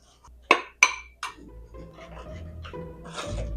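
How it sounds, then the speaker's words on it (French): A mixing bowl of batter for pudding chômeur slips and hits the kitchen floor, giving two sharp clanks in quick succession, a smaller knock, then a low rumble as it settles and rolls. "J'ai échappé mon bol."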